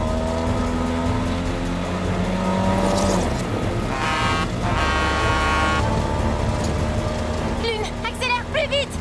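A race car accelerating hard in an animated chase, its engine roaring steadily under music and loud action sounds, with squeals and higher bursts toward the end.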